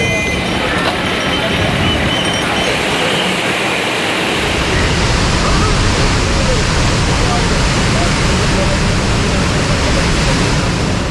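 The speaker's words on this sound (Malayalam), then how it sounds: "നമ്മുടെ നാട്ടിലെ ഏറ്റവും മനോഹരമായ ബീച്ചുകളിലൊന്നാണ് തിരുവനന്തപുരം ആഴിമല ശിവക്ഷേത്രത്തിന് താഴെയായുള്ള ഈ ബീച്ച്" Surf at Azhimala beach below the Shiva temple in Thiruvananthapuram rushes in a loud, continuous broadband wash that swells stronger midway and stays dense to the end, with no voices.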